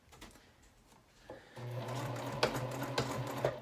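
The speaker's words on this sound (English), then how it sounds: "And then I'm simply going to stitch" Sewing machine stitching a zipper onto a vinyl project bag starts after a soft click, then runs with a steady close whirring hum and faint rhythmic needle ticks.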